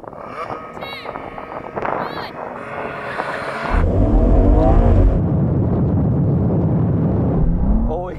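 Drag race start of a BMW M2, Audi RS3, AMG A45 S and Porsche Boxster GTS: talk and idling give way to a sudden loud roar of engines accelerating hard together, sustained close by.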